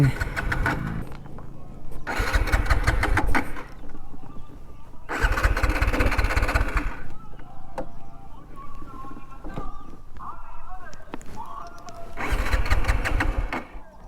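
A TVS Apache RTR 180 motorcycle cranked repeatedly, three loud bursts of starter and engine noise separated by quieter stretches, close by.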